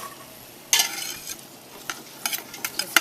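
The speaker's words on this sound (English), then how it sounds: "So we are going to add in our onion. Okay, so we'll add that first. You can hear it sizzle." Chopped onion, celery and carrots sizzling softly in a pot for vegetable stock, with a quiet frying hiss broken by sharp scrapes and clicks of stirring.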